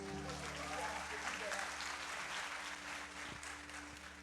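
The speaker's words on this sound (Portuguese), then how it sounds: "Vamos dar um aplauso para Jesus." A Pentecostal church congregation on Pentecost Sunday applauds together, producing a steady, dense wash of clapping from many hands that holds its level throughout and tapers slightly at the end.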